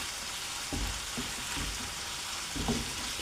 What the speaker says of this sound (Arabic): خلوه يزيد يتقلى معنا هذاك البصل